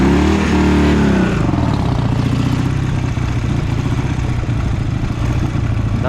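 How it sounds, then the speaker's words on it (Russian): A Dnepr MT-11 motorcycle engine runs roughly, revving briefly, then settling into a loud uneven idle that keeps threatening to stall, heard up close. "Давно не ездил, глохнет у меня мотоцикл."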